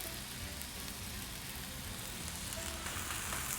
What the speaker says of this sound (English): I'm gonna go down on this side. There's our sizzle.